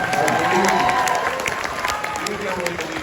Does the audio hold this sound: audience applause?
yes